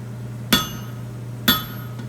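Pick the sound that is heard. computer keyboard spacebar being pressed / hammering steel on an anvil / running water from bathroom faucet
hammering steel on an anvil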